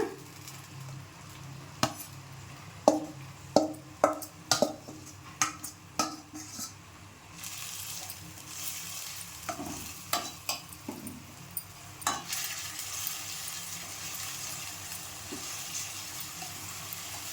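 Tomato and onion paste fries softly in oil for a soya chunk curry. Several sharp utensil clanks against the pan come first, then a quieter, steady sizzling hiss.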